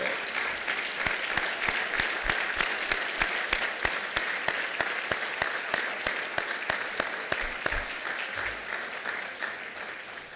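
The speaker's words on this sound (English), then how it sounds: "I'd love to give you a round of applause." Sustained audience applause at a university athletics Hall of Fame induction ceremony, a dense wash of many hands clapping steadily for about ten seconds, gradually thinning slightly toward the end.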